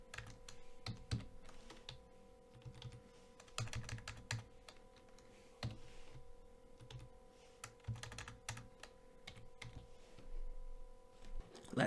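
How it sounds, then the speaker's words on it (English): Light clicking on a computer keyboard forms a quiet, irregular stream of keystrokes over a faint steady hum. "Let's type something in it."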